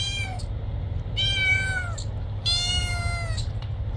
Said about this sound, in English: There's a cat down there.